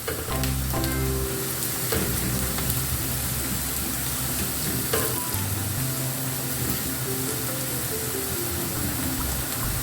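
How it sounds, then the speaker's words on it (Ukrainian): Onion and carrot fry together in a pan for a pea soup base, a continuous close sizzle with intermittent stirring scrapes, no one speaking. "І тепер ми їх ось так перемішуємо вже разом жаримо."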